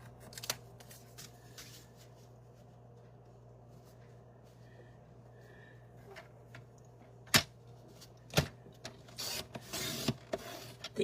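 Cardstock is trimmed for a handmade card, with quiet rustling and handling, a couple of sharp cutting snaps, and a scraping slide of paper at the end, close and fairly soft.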